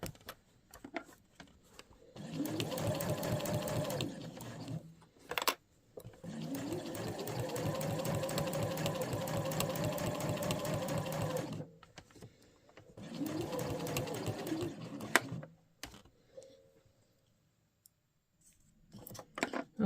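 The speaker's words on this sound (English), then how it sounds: "And then sew to 1/2 inch from the edge, or thereabouts." Sewing machine stitching the seam of a small zipper pouch, running in three steady bursts of rapid needle strokes separated by short pauses, close and clear with no talking.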